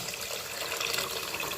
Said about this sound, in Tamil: அந்த தண்ணி புளி தண்ணியை இந்த மசாலா கூட சேர்த்துக்கலாம்.